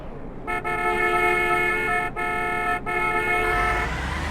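A red car in the Sakura School Simulator game sounds a sustained synthetic horn, a bright, even honk cut by two short dropouts, loud and alone.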